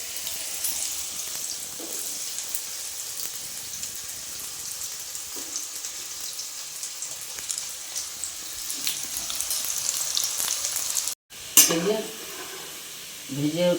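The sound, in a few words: small-cut potatoes frying in oil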